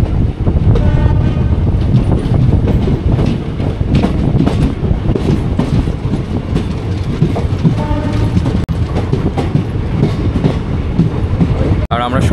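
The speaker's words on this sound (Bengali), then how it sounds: "তো আমাদের ট্রেন এখন ঢুকছে" A passenger train rolls into Naihati Junction, its loud, continuous rumble and rhythmic clickety-clack of wheels over rail joints filling the whole span, with a brief horn-like tone partway through.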